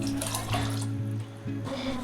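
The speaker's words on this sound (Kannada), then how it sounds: "ಮತ್ತು ಇದಕ್ಕೆ ಸ್ವಲ್ಪ ನೀರನ್ನ ಸೇರಿಸ್ಕೊತಾ ಇದ್ದೀನಿ." Water pours steadily into a pot of lentil sambar, a continuous close splashing and running flow that briefly eases before resuming.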